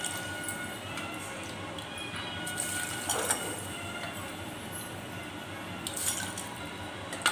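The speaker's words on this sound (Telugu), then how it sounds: "దీనికి 6 కప్పులు నీళ్ళు పోసుకుంటాను." Water from a cup poured in a steady run into a pot of dal for a home-cooked mango dal (mamidikaya pappu), with soft splashes and drips standing out against a constant background hiss.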